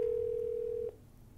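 A steady telephone dial tone on a 9611 desk phone after the phone button is pressed, one clean continuous hum held for just under a second before cutting off abruptly into faint room noise.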